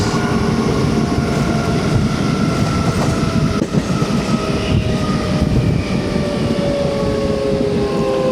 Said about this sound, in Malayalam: 22726 കണ്ണൂർ കോയമ്പത്തൂർ എക്സ്പ്രസ്